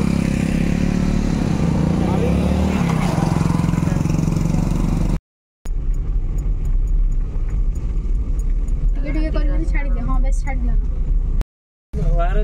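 A vehicle drives along a winding, dangerous mountain ghat road toward a waterfall, its engine a constant rumble under loud talking, broken by two brief silent gaps.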